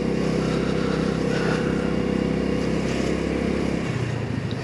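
Steady engine drone of a 2022 Honda Navi scooter riding through downtown Louisville, Kentucky, a continuous loud low hum with wind rush, easing slightly near the end.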